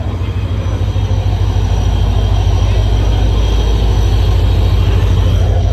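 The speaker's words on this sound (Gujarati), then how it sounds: "ટ્રેન આવી ગઈ છે" An arriving train rumbles loudly and steadily nearby, a heavy low roar with faint high squeal persisting throughout.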